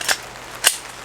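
A Smith & Wesson M&P 2.0 10mm pistol loaded with .45 ACP ammunition gives two sharp, close metallic clicks about half a second apart as the hammer falls on light primer strikes, with no shot firing.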